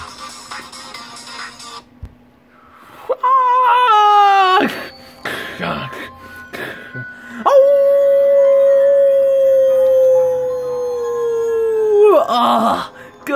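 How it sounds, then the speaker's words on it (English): A werewolf in a video game howls loudly, first with a few short rising wails and then with one long, sustained, wavering howl that fades out, heard alone without talk. "that howl is way too annoying"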